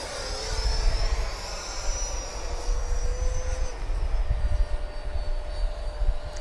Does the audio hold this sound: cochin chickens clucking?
no